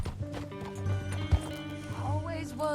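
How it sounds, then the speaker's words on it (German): A horse's hooves clip-clopping along in Red Dead Redemption 2, soft uneven footfalls under game sounds and brief voices, with one sharper thud partway through. "Dein Pferdchen ist aber langsam."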